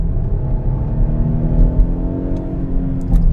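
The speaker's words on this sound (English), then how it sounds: "I'm going to floor it real quick" A Kia Sorento accelerating hard at full throttle, its engine drone rising steadily and loud with strong low harmonics, road noise underneath, no talking.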